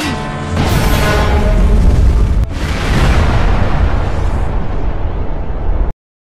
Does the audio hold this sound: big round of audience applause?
no